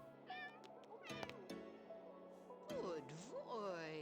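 Cat meowing indoors, several drawn-out, rising and falling meows in quick succession, fairly faint and close, with a person's voice speaking alongside.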